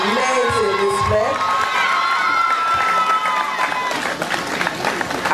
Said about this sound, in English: Let's give them an extra round of applause.